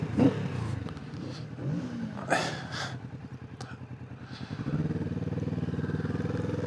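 A 2025 Kawasaki Vulcan S cruiser motorcycle's exhaust, heard as a couple of sharp revs followed by a steady, rumbling idle with a pulsing rhythm that grows fuller toward the end, close and clear with no talk.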